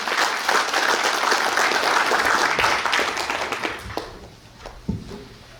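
Union members at a Gyeongju branch delegates' convention give a sustained round of applause for an award presentation, loud crowd clapping that thins into scattered claps and a few knocks as it dies away.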